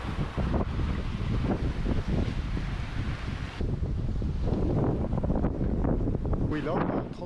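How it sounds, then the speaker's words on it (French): Strong wind of about 30 knots roars continuously aboard a sailboat under way, a loud, steady buffeting on the microphone that never lets up, with a faint hint of water movement underneath. "là, on a 30 nœuds de vent,"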